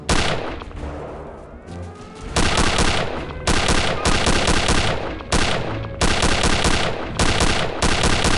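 Gunfire in the shooter Return to Castle Wolfenstein, loud repeated automatic bursts in rapid rhythmic volleys broken by short gaps, dense and close, with no talk.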